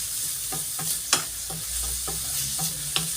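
Sardines being stirred and sautéed in a pan: a steady sizzle runs throughout, broken by several sharp scraping clinks of a utensil against the pan at irregular intervals, close and clear with no talking.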